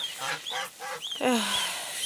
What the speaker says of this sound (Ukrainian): Думала гусей не переганяти, але вирішила перегнати